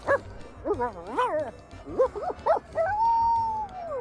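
A dog in Sea of Thieves voicing a quick run of yips and whimpering barks, ending in a drawn-out whine, close and fairly loud.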